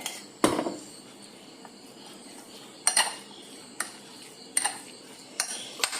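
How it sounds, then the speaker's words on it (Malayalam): A spoon knocks and scrapes against a bowl while mixing a thick coconut chutney, giving a few sharp, spaced clinks over a quiet room hiss, close by and with no talk. "നമുക്ക് ഇത് മൊത്തം ഇട്ടിട്ട് ഒന്ന് മിക്സ് ചെയ്യാവേ"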